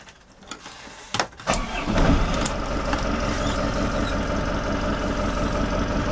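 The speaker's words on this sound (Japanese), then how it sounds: "エンジンをね、かけてみましょう。" A Nissan Sunfisher 780 boat's engine cranks with a few clunks, catches, and settles into a steady, loud, rumbling idle.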